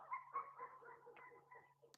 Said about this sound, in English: I'm sorry about the dogs in the background